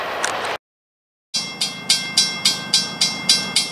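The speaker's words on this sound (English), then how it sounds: "Here comes another train southbound by micro." A CSX or Amtrak train passes, a loud wash of rail noise that cuts out, then returns as a regular run of rhythmic wheel clacks over rail joints, close and without talk.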